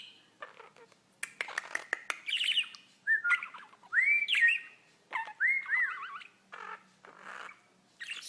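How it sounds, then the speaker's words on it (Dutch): A small pet bird, playing with a girl, gives a lively run of chirps, whistled squawks and rising calls close by, broken by brief clicks and scratches, with no talk. "Gekke vogel."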